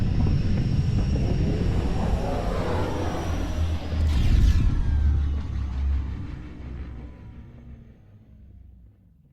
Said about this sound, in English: Descent engine engaged.